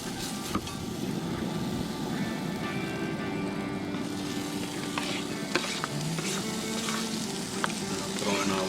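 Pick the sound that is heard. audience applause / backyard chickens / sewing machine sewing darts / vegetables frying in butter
vegetables frying in butter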